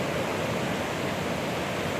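Rushing high water near a waterfall makes a loud, dense, steady roar close by, with no other sounds over it.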